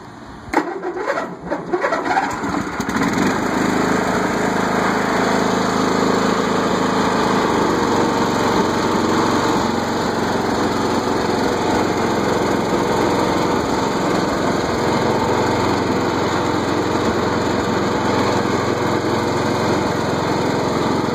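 A Simplicity lawn tractor engine starts with a few rough sputters and then settles into a loud, steady idle, close by and running alone for the rest of the clip.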